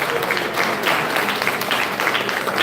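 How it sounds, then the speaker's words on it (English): Applause from an audience at an essay competition award ceremony, a dense continuous wash of many hands clapping at moderate loudness, steady for the whole stretch with no voices over it. "Give them a big round of applause."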